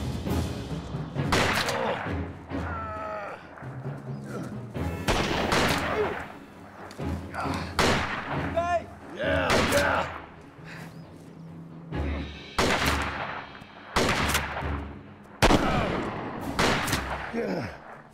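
Sharp gunshots crack and echo through a western movie shootout between a marshal and outlaws, loud repeated shots in irregular bursts mixed with shouting voices and a dramatic score.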